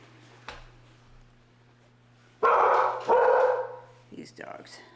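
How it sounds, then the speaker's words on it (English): Dogs at a family home bark in a couple of loud, close bursts after a quiet stretch, followed by shorter yips, with a voice speaking briefly. "These dogs."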